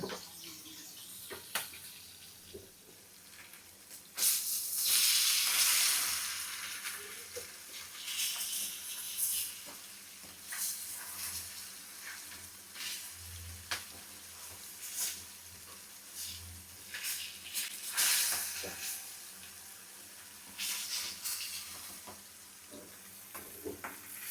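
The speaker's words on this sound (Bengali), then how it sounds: "মরিচ মাখানো মানে হলুদের গুঁড়া মরিচের গুঁড়া লবণ মাখানো মাছ ভাজতেছে" Fish coated in turmeric, chili powder and salt fries in hot oil with a steady hiss that swells into loud sizzling bursts, close and continuous.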